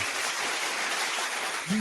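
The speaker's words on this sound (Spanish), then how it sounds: "Vamos a recibir con un fuerte aplauso a nuestro querido Víctor Daniel." An audience applauds steadily on a show, a dense, even clatter of clapping that fills the whole moment at moderate loudness, with a brief voice near the end.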